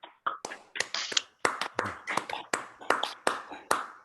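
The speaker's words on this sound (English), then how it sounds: "So maybe we could unmute and give her a clap." Scattered handclaps from a few participants unmuted on an online academic seminar call, sharp distinct claps in an irregular series, close and somewhat thin.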